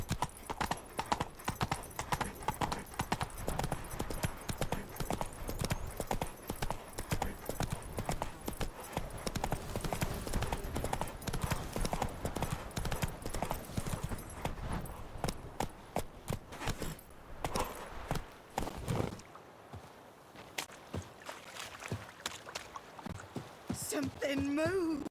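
Geralt's horse Roach in The Witcher 3 gives steady, rapid hoofbeat clip-clops for about twenty seconds, then slows to a few scattered steps, with a voice over the hooves.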